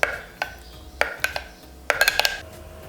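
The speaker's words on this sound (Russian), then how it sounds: "Хорошо перемешиваем." Spoon stirring rice with sour cream in a frying pan, giving sharp scattered clinks and scrapes of utensil against metal, a handful of taps then a quick cluster near the end, close and fairly quiet.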